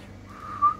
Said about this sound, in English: Oh, geez, I can't whistle.